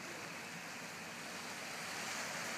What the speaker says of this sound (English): the waves crashing on the beach